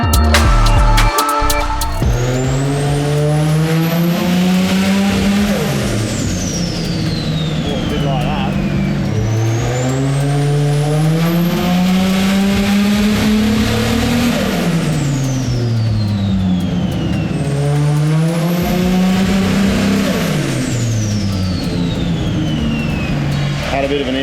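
A turbocharged RB25 engine in a Nissan R34 Skyline runs on a dyno while misfiring, rising in loud repeated revving pulls with turbo whine, each pull falling away before the next.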